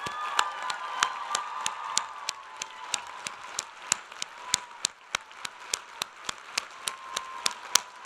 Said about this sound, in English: Please join me in applauding Mike Noel, Marion Riley Professor of Physics.